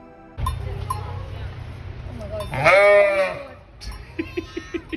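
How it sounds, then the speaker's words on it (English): Sheep bleat close by near a road over a steady low engine-like rumble, one long loud wavering bleat in the middle followed by a run of short faint calls. "So be patient with the sheep, they're adorable, let them go on their way and they won't bother you."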